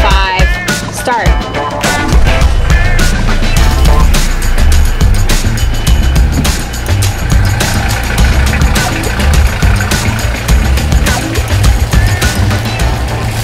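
A sailboat's engine, started with a push button, runs at a steady, loud idle, a dense continuous rumble with rapid rhythmic pulsing that holds unchanged throughout, heard close and with no voices over it.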